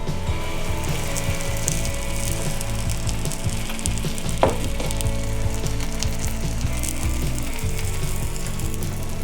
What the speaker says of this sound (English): now I'm gonna add my quesadilla in the pan.